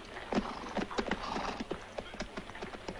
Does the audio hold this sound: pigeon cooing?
no